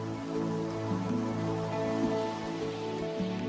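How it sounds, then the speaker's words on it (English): Steady rain falling in a tropical rainforest, a dense, even wash of drops that holds at a constant level from start to finish with no pauses. "Where there is rain, there are waterfalls."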